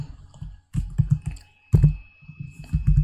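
Password typed on a computer keyboard while unprotecting an Excel sheet: bursts of quick, close key clicks in short runs separated by brief pauses, with no talking.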